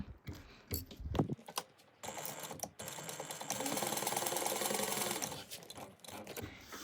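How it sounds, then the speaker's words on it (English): A sewing machine stitches a backpack seam at a 3/8 inch allowance, starting with a few short bursts and handling noises, then running in a steady, close mechanical whir for a few seconds before slowing and stopping. "we're going to sew those at a 3/8 inch seam allowance"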